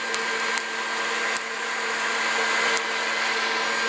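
A hot-air popcorn popper roasts about a third of a cup of coffee beans, its fan blowing the husks loose, with a loud, constant whirring drone broken by a few faint ticks and pops.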